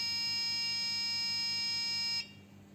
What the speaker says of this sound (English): it will not output 11 volt, but it will give you an alarm